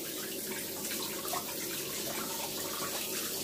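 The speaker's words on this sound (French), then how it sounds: "je vais rincer mes poissons avec de l'eau mélangée avec les vinaigres" Steady running water pours continuously while salted mackerel are rinsed in water mixed with vinegar, a soft, even splashing with no talk.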